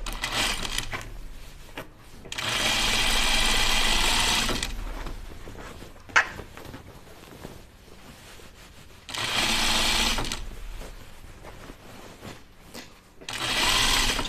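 Sewing machine stitching a seam on a pair of slacks, three loud sustained bursts of rapid needle chatter separated by quiet pauses with fabric handling and small clicks, close up.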